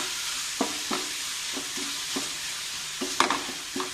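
Ingredients for dill-leaf chitranna with vate huli powder fry in a pan, a steady close sizzle broken by repeated scraping stirs of the spoon, about seven strokes, with no voices.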